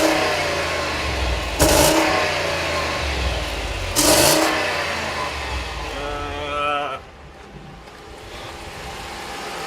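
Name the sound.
heavy-duty pickup truck engine starting and revving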